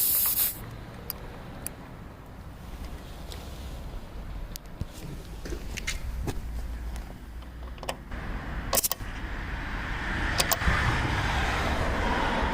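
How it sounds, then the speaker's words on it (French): Air hisses steadily into an electric scooter tire being pumped to 4 bar, with scattered sharp clicks and a slight rise in level toward the end, heard up close without talk. "On n'oubliera pas d'effectuer un gonflage à 4 barres, que ce soit sur la roue arrière ou sur la roue avant."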